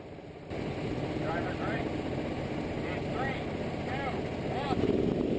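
Superkart engines roar together at a race start, a dense continuous high-pitched buzz with rising whines from several karts pulling away, getting louder near the end while a commentator talks over it.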